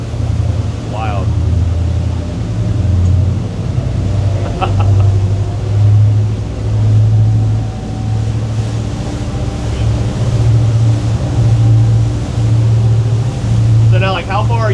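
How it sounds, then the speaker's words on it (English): Unmuffled 2,300 HP Scania engines on a fishing yacht under way roar with a steady low drone and pulsing throb, water and wind noise around, with occasional voices over it. "just the roar of the engines back there, because there's no mufflers"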